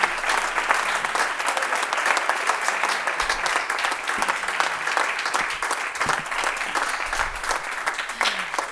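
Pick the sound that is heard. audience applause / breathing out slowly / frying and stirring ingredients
audience applause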